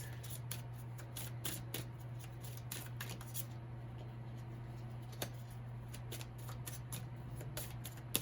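Tarot cards are shuffled for a reading in a quiet room, a close, steady stream of soft riffling taps and slides over a low, constant hum, with no voices.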